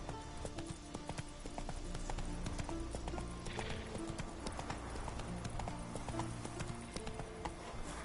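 Hooves of the horse Roach in a PS4 video game clop in a steady, quick rhythm throughout, fairly close, with faint game ambience behind.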